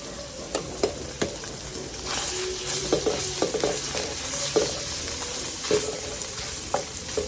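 Chopped pork fat rendering into cooking oil in a pan for dinuguan, sizzling steadily up close with irregular stirring scrapes and knocks scattered through, no voices.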